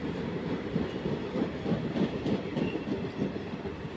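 A train at Charlapalli railway station produces a steady, loud rumble with faint rhythmic clatter throughout, no voices.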